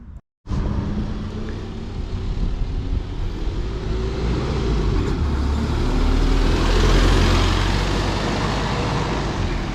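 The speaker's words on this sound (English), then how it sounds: "that's our first bus of the day done, a 23 plate E200 MMC" Riding aboard a 23-plate Alexander Dennis E200 MMC single-deck bus operated by Compass in Surrey: a steady, loud interior drone of the engine and road rumble that builds gradually, with no talking.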